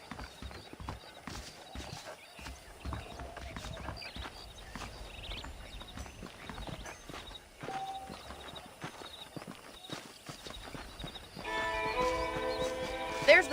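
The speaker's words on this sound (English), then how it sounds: "The horses are saddled up over here." Horse hooves clip-clop in a Western-style video game, a steady walking rhythm at moderate distance, with ambient game sounds and a brief whinny-like tonal sound near the end.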